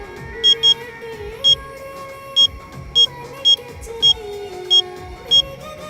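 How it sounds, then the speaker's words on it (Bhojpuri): A phone ringing tone plays on an outgoing call in a Bhojpuri film scene. Short, high beeps repeat steadily, some in quick pairs and some single, over a low background hum with no talking. "तनी ओकरा फोन लगा के देखी ना कहाँ पहुँचल बा"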